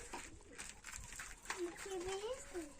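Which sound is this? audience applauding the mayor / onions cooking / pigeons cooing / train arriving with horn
pigeons cooing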